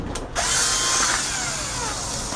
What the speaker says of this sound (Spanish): Aquí tengo una pistola con una broca.